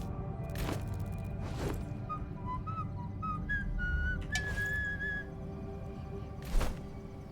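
A person whistles a short, rising melody of thin, clear notes at moderate volume over a low steady background hum, with a few faint clicks and thumps around it.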